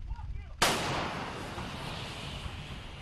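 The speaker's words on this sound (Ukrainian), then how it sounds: "скрізь лунають вибухи, працює артилерія" A single heavy artillery blast erupts suddenly and loud on the front line near Bakhmut, followed by a long rumbling echo that rolls on through the rest of the clip.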